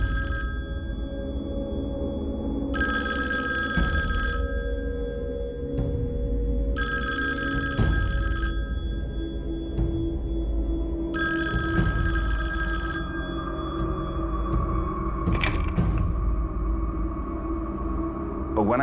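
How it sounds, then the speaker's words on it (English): A telephone bell rings at night in three long, loud bursts separated by pauses, over a low background rumble. "I couldn't have been lying in bed for more than an hour when the phone rang."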